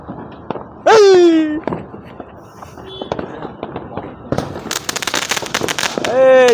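Diwali firecrackers go off among friends in Tamil Nadu, sharp loud bangs and bursts of crackling near the listener, mixed with shouting and excited talk between the blasts.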